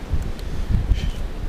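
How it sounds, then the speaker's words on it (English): Strong wind buffets a microphone outdoors, producing irregular low rumbling gusts and thumps with a faint rustle behind them. "Today's a very windy day"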